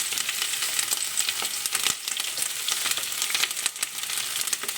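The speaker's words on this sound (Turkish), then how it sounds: "bildiğiniz o patates kızartır gibi tavukları kızartıyoruz arkadaşlar" Steady, loud sizzling and crackling of chicken frying in hot oil, continuous throughout with occasional sharper pops.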